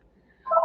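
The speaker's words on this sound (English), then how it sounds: "So sorry, my phone is ringing." A mobile phone starts ringing after a brief quiet moment, a loud, steady electronic tone that begins abruptly and carries on to the end.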